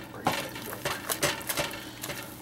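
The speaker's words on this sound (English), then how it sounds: "One egg in. Stir it until it's completely mixed in." A spoon stirs an egg into thick fruitcake batter, with irregular close scraping and clinking against the bowl and soft thuds of heavy mixing, alone with no talk.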